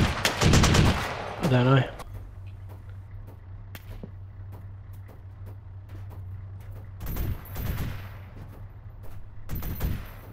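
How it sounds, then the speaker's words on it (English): Video game gunfire during a squad vehicle combat match: a loud burst of automatic fire at the start, then scattered sharp shots and another burst later over a low engine hum, with brief voice chat. "We're taking fire from somewhere."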